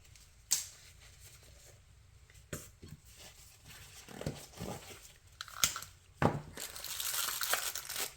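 Intermittent crinkling and rustling of plastic, with sharp crackles and scrunches coming in bursts, growing denser and louder toward the end.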